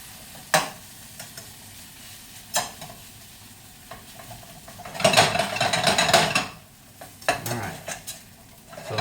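Beef frying in a hot pan while being stirred, with scraping and clinking utensil hits, a louder sizzling surge midway, and a busy close-up sizzle throughout.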